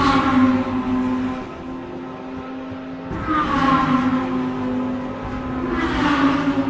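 Race cars in round 5 of the South African Endurance Series, an hour-long endurance race, drone with a steady engine roar that swells twice as cars howl past at close range, with no voices.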